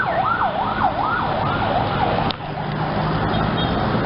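An ambulance siren wails in a fast rising-and-falling cycle as it passes along a road near an overpass, clear over steady traffic rumble and fading slightly toward the end.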